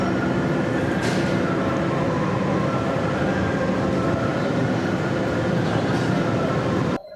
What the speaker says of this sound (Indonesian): ini adalah kereta api Cikuray